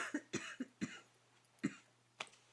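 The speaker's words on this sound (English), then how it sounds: "There will be some coughing throughout this. I'm asthmatic." An asthmatic person coughs in a series of short, dry bursts, five or six quick hacks close to the microphone in an otherwise quiet room with a faint steady hum.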